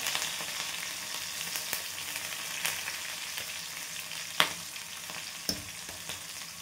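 Onion, green chili, garlic and cumin sizzle steadily in a hot pan, a continuous frying crackle with a few sharp clicks of stirring, fairly close and with no voices.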